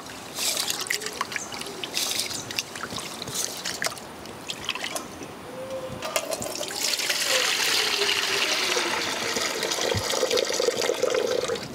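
Rice is washed by hand in a vessel of water, with sloshing, trickling and dripping that grows into a steadier pour of water toward the end, close by and with no voices.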